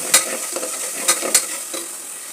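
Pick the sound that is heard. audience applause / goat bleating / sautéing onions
sautéing onions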